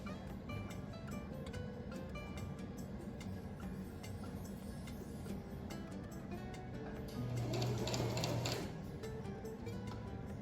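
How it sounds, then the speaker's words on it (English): A sewing machine stitches along a quarter-inch folded crease line on a continuous placket, running as a steady close mechanical hum with a louder burst near the end. "Sewing right on that 1/4 of an inch folded crease line."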